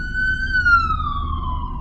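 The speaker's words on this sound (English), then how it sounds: "We have the ambulance going up." An ambulance siren wails in a single long falling tone, clear and fairly close over low road rumble.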